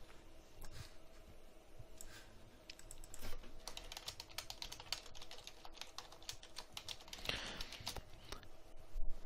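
Rapid typing on a computer keyboard patters on as a steady stream of soft, close clicks over a faint background hum. One brief denser flurry of keystrokes comes near the end.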